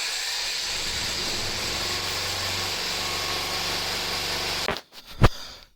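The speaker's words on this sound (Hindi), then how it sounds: "आपने देखा इंजन हमारा स्टार्ट हो चुका है" A diesel generator starts through an automatic transfer switch, its engine running steadily and droning near and loud, then cut by a few sharp clunks and thumps near the end.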